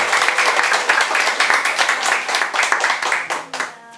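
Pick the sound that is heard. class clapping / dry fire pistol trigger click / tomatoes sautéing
class clapping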